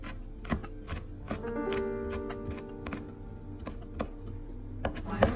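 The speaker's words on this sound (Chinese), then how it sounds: "再把小米辣切碎" A knife chops fresh bird's eye chilies on a cutting board in a home kitchen, giving a quick run of crisp, irregular taps close by over faint background music.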